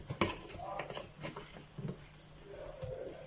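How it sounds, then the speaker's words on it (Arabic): Chicken tagine with raisins and onions starting to boil in a pot, giving soft bubbling and a light simmering patter with faint clinks of utensils near the pot. "كيف ما كتشوفوا معايا حبيباتي دابا بدا يغلي، راني زدتو شويه ديال الميه باش ما يلصقش"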